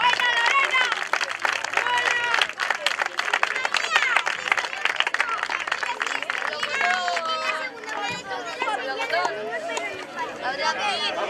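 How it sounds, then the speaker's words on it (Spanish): An audience applauds at a championship award ceremony at the Moncayo-La Ribera final in Cascante, 2017: dense, sustained clapping with a busy crowd murmur and voices throughout. "Fuerte aplauso para todas ellas."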